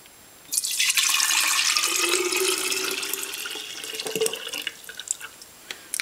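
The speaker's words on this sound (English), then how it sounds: "So here is the finished rice milk, and then I just pour it over here like this." Homemade rice milk pours steadily into a container, a close liquid gush that starts abruptly, rises in pitch as the vessel fills, then thins to dribbles and drips.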